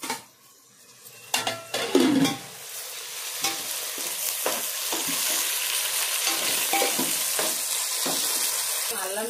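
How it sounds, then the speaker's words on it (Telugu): Green chillies frying in hot oil in a pan while preparing egg dum biryani, a loud steady sizzle with clattering spoon stirs and scrapes against the pot near the start. "పచ్చిమిర్చి వేసానండి. బాగా ఎర్రంగా వేసుకోవాలండి."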